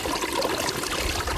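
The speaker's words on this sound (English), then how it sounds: "just the water, like a little stream" A little stream running near a campsite, a steady close trickling and burbling wash of water, continuous and fairly loud with no voices.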